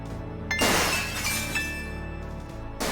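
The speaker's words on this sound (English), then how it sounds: "hears the faint sound of breaking glass" Glass breaking in the adventure game Gabriel Knight: Sins of the Fathers, a loud crash of shattering with tinkling shards that rings out and decays over a few seconds, heard alone with no talking.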